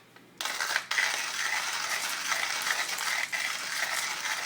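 A hand-cranked Hario coffee grinder crunches beans continuously up close, a steady rasping, gritty grinding with a couple of brief catches early on.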